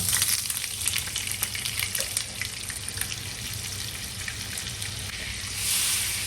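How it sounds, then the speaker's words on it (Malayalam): Butter sizzles and fries steadily in a pan of hot oil while making paneer butter masala, a dense continuous hiss that swells slightly near the end. "ഇനി നമുക്ക് അതിനകത്തേക്ക് കുറച്ച് ബട്ടർ ആഡ് ചെയ്ത് കൊടുക്കാം"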